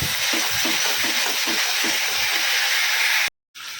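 Banana flower, potato and chickpeas sauté in a hot pan, giving a loud, steady hiss with rhythmic stirring pulses, broken briefly by a sudden cut near the end.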